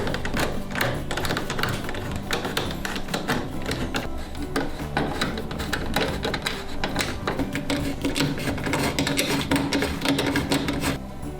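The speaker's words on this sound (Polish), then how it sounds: "Wkładamy śrubkę i skręcamy." Screw driven into the rear housing of a dishwasher door during a bottom gasket repair, heard as a steady, rapid mechanical whirring clatter that runs close and unbroken for about eleven seconds.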